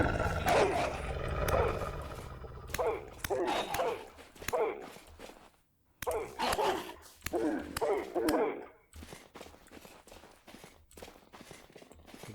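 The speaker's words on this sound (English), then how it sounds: "There's a pack of wolves over here" A pack of wolves in the video game Vintage Story growls, snarls and barks in repeated bursts with short pauses, close and fairly loud, thinning to scattered sharp sounds toward the end.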